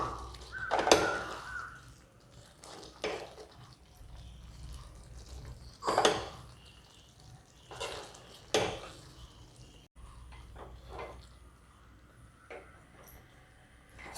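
Cooked pav bhaji vegetables being pressed with a hand masher in a pot, giving a few scattered soft thumps and clanks at irregular intervals against a quiet kitchen background.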